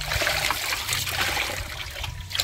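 Water runs steadily while things are being rinsed, a loud, continuous close-up trickle and splash with no pauses.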